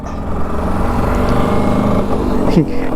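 Bajaj Super FE scooter engine running steadily and loud while riding, with a broad rumbling drone throughout and a brief sharper flare near the end as the gear changes.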